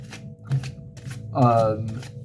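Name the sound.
shuffling oracle cards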